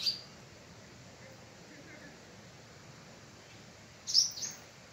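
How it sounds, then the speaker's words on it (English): Barn swallows give brief, high chirping calls, one burst at the start and a louder twittering pair near the end, over a steady hush of outdoor background noise. "barn swallows are really cool birds"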